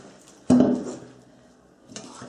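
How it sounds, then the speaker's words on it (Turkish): A lid lifted off a pot of rested duvaklı rice pilaf gives a sharp metallic clank followed by a fading ring, then a softer second knock near the end in an otherwise quiet kitchen. "Pilavımız dinlendi. Ve kapağını açıyoruz."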